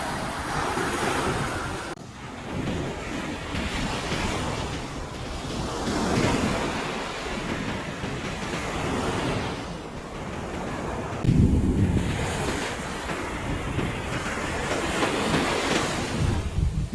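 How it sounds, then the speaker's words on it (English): Ocean surf washes continuously up a beach, with broad swells rising and falling and a louder surge of water rolling in near the end, over steady wind noise. "Look at the water coming up to us."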